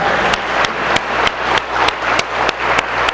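Church congregation applauding at the close of a Lord's Supper service, a dense steady wash of many hands clapping with regular louder accents, close and continuous throughout without speech.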